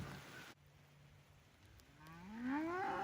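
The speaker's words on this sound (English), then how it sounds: "What a silly cow." A cow outdoors lets out a rising, drawn-out moo that swells louder toward the end, after a quieter stretch of ambient rustle and a faint earlier tone.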